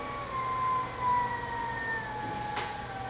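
Servo motor under Baumuller bus servo drive speed control, a steady whine with tones gliding slowly in pitch as the speed changes and the rotation reverses counterclockwise, constant and fairly quiet with no voices.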